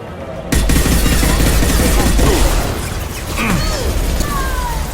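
Rapid gunfire bursts in the Mass Effect 2 video game, with sharp shots and booming impacts arriving in quick succession over a dense combat backdrop, loud and close throughout.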